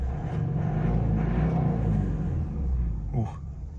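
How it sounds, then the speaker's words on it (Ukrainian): A 2008 Subaru Forester with a 2.0-litre 150-horsepower diesel engine runs with a deep, steady rumble, then briefly rises in pitch as it revs near the end before easing off. "Автомобіль бере оберти просто чудово."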